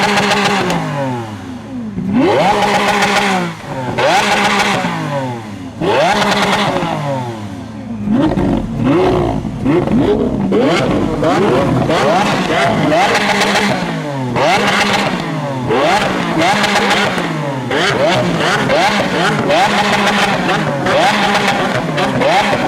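A modified Lamborghini at a car meet revs hard in repeated bursts while shooting exhaust flames, loud crackles and pops between the rising engine sweeps, with crowd voices in the background.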